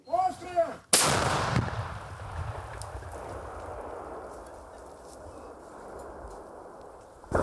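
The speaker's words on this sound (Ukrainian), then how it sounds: "І ще один снаряд 125-го калібру на додачу." A tank cannon fires one tremendous booming 125 mm shot right after a brief spoken word, its heavy blast rolling and echoing away for several seconds.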